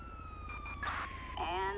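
An ambulance siren in the GTA V video game wails with rising and falling tones, close and loud, over a low engine rumble.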